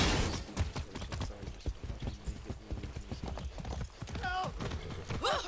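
Horse hooves clip-clop steadily in the Far Cry 6 video game, a dense rhythmic run of close, crisp hoof strikes with light mechanical clatter and a short whinny-like cry near the end.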